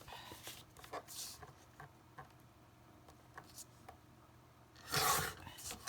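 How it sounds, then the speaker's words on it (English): A large paper trimmer cutting a card tag, with faint rubbing and a short raspy slide of the blade, then a louder scraping cut near the end, heard close up in a quiet room. "Okay, so I have my giant trimmer here. So just trim this up."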